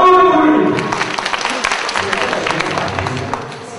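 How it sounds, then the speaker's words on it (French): A seminar audience applauds in a dense wash of clapping that starts loud and tapers slightly toward the end, with a few voices and tonal sounds mixed in underneath. "On applaudit pour lui."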